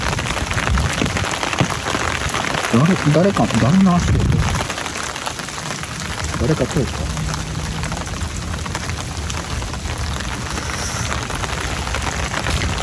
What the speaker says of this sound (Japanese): 結構本降りで降ってますんで